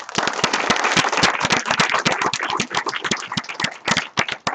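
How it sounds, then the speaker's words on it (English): A crowd claps together in dense, lively applause that holds steady for a few seconds before thinning out. "Let's give Max a round of applause here."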